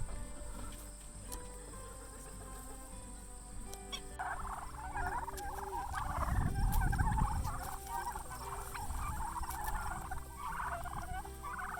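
Turkeys on a farm, a flock gobbling in bursts that build to a thick chorus in the middle, with other fowl and insects chirping faintly in the open air.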